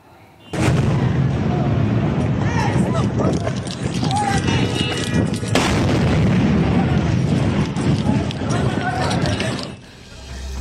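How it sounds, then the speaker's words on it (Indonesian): Heavy, rumbling explosions from air strikes on Doha, Qatar, booming thuds rolling on continuously and loudly, with a sudden sharp onset and a brief dip near the end. "Ledakan terdengar di Doha, Qatar."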